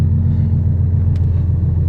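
A widebody Nissan Skyline R33 rumbles close by with a steady, deep, loud engine drone as it is pulled out.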